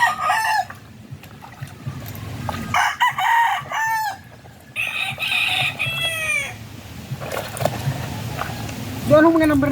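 Rooster crowing and hens clucking in a broodcock and hen breeding pen, several loud crows rising and falling over steady background clucks, with people talking nearby.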